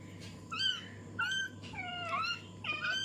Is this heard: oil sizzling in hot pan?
no